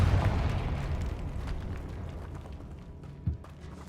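A Confringo blasting curse bursts in the Hogwarts Legacy video game, a rumbling explosion that fades over a few seconds, then a short sharp pop near the end.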